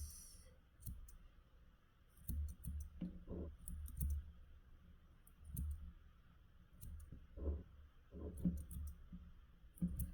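Scissors snip through the yarn loops of a handmade craft witch broom in a series of quiet, close, irregular clicks and cuts with no talking.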